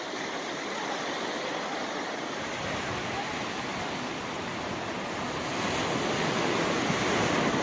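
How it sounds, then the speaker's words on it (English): Gentle ocean waves wash at Bethune Beach, Florida, a continuous soft roar of surf with some wind noise across the microphone and no distinct breaking crashes. "Waves very gentle today."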